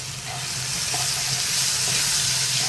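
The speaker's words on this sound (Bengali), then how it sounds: "দিয়ে আবার একটু কষিয়ে নেব" Tomato masala sautéing in a pan as the base for a Bhola fish curry, a dense, even sizzle that holds steady and close throughout.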